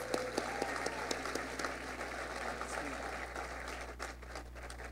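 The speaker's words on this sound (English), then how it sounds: "Give her one more round of applause." A school district's Teacher of the Year ceremony audience gives a sustained round of applause, a moderately distant, even wash of clapping over a low room hum.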